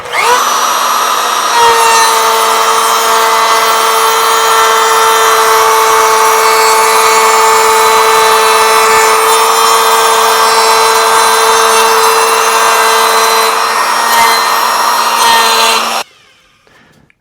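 A Bosch 1617EVS router cuts a chamfer along a wooden board, a loud steady high-pitched whine with rough cutting noise that holds for about sixteen seconds and then cuts off abruptly.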